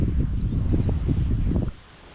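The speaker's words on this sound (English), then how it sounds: "Oh, that wind's picking up again." Wind gusting across an open fishery bank, a steady loud rumbling buffet against the microphone with rustling bursts, dropping away abruptly near the end.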